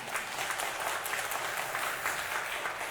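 An audience at an event claps together in a steady, dense burst of applause heard from a little distance, continuous for a few seconds.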